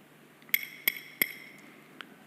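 A glass of water is tapped three times in quick, evenly spaced succession, each clear ringing clink decaying briefly, followed by a fainter fourth touch, in a quiet room.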